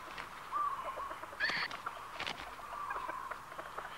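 Hens and cockerels cluck and call close by on a farm, with a few sharper crowing-like bursts rising over a steady, busy background of fowl sounds.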